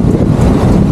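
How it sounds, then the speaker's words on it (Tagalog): Strong wind at De Bella's Beach in Mauban, Quezon buffets the microphone with loud, continuous rumbling gusts, and the surf is faintly mixed in underneath. "Napakalakas ng hangin dito."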